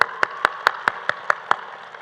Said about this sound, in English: So please give another round of applause to these two lovelies.